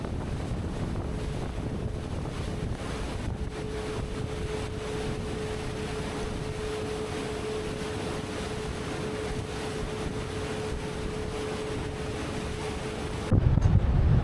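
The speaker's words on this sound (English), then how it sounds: "It's really windy." Strong wind roars steadily into the microphone at Loch Ness in the Scottish Highlands, a constant rough buffeting rumble with a faint steady hum, growing louder in a final gust.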